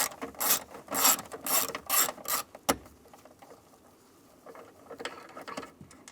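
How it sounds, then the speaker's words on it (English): A T20 socket removing a screw from the steering column of a 2002-2008 Dodge Ram 1500, several quick close ratcheting bursts followed by a sharp click and then quieter faint clicks. "Now I'm going to use a T20 socket. Take this screw out."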